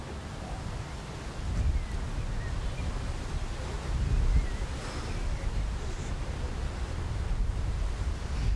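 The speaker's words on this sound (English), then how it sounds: "Just hear the wind, can't you, now, in our sound. Just gusting a little bit." Wind gusts across an outdoor bowls green at a world championship singles final in Christchurch, a continuous broadband rush buffeting the microphone and swelling in a few louder gusts.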